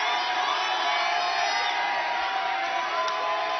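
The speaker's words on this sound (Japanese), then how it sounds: "場内から両者への大歓声" A packed arena crowd at a professional wrestling junior heavyweight title match roars and whoops steadily for both wrestlers, a loud continuous wall of cheering with no pauses.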